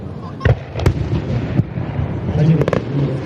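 Fireworks shells launch at the 2019 Akigawa river basin fireworks festival, with several sharp, booming thumps and cracks in quick succession over a busy outdoor background.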